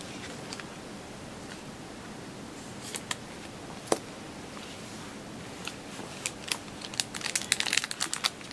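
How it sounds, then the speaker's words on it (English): A 1994 Antiquities Magic card slides into a plastic sleeve, giving faint crinkling and scattered small plastic clicks that grow busier near the end, with no talking. "I'm going to put it in a sleeve anyway."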